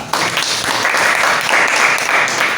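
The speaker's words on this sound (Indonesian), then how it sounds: "Beri tepuk tangan untuk kita semua." Applause fills a classroom, a steady wash of many hands clapping together, loud and close throughout.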